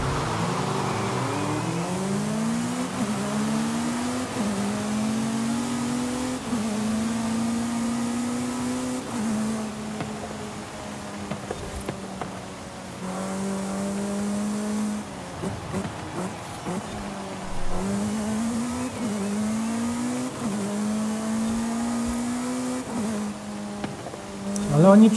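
Formula 1 race car in Forza Horizon 5, its engine whining and climbing through repeated upshifts in steady cycles, high-revving and continuous over about 25 seconds, with a voice talking over the racing.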